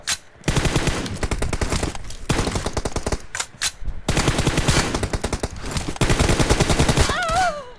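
Rapid automatic gunfire in a first-person shooter video game, loud close bursts firing in long rattling strings with short pauses between them, and a brief electronic tone near the end.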